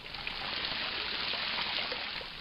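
Steady rushing and splashing of water at the Barcaccia fountain at the foot of the Spanish Steps in Rome, a continuous broad wash of falling water heard close and fairly loud throughout.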